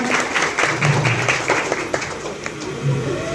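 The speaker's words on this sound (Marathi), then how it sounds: "सर्वांनी टाळ्या वाजवा" An audience at a Women's Day bharud folk performance claps in a steady, moderately loud patter of applause that carries on with little break.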